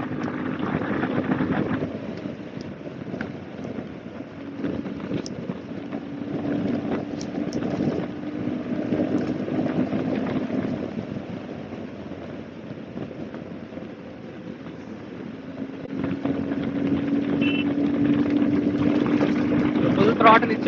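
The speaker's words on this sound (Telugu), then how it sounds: "ఫుల్ థ్రాటిల్ ఇచ్చా." A Royal Enfield Himalayan 450 motorcycle held at full throttle in sixth gear gives a steady engine drone under heavy wind rush, with a rider talking over it.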